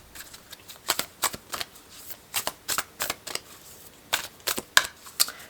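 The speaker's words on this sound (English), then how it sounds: "I'm going to pull a couple cards from the Hidden Worlds Oracle." Cards from a large Hidden Worlds oracle deck are drawn and shuffled on a table, with a series of close, papery riffles and slaps in uneven bursts and no talking.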